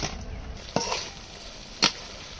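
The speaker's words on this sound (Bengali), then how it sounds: "মশলা কষানো হয়েছে এখন ভাজা মাছটা দিয়ে দেবো" Fried shrimp dropped into a pan of cooked-down spice masala with onion and chilies, giving a steady close sizzle with two sharp hissing bursts as pieces hit the hot pan, no talking.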